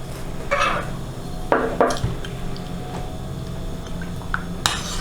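A lid goes onto a pot of milk boiling with pine buds on a stove, a few soft clinks and knocks over a steady low bubbling hiss, close and moderately loud with no speech.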